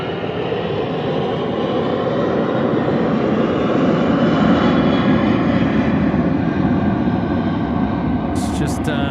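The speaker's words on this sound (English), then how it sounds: "That noise is the Brisbane flight going behind me." A departing jet airliner at Sydney Airport roars steadily overhead, a loud broadband rumble holding throughout with a brief clatter near the end.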